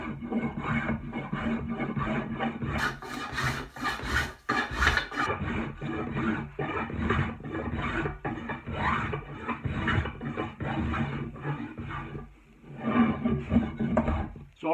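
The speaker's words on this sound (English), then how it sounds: "that's a Lee Valley spoke shave, okay? It's a Veritas." Lee Valley Veritas flat-soled spokeshave shaping an ash handle, close and fairly loud, with repeated raspy scraping strokes in an uneven rhythm and light knocks of handling between them.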